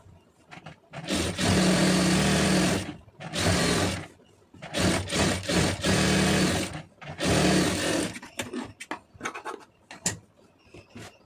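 Sewing machine stitching a cotton blouse lining, running in several loud sustained bursts separated by short pauses, then a few brief stuttering stitches near the end.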